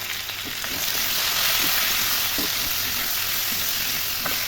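Cut mankochu taro fries with salt and turmeric in a pan, giving a loud, continuous crackling sizzle. Occasional soft stirring scrapes come through it.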